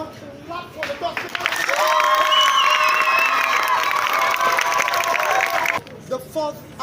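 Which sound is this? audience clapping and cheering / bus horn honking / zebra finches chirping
audience clapping and cheering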